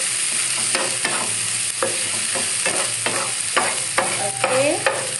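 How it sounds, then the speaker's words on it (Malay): Ingredients shallow frying in sesame oil for vegan spicy ramen, a steady close sizzle broken by repeated scraping stirs and clatters of the utensil in the pan, with no voices. "while this is kind of shallow frying"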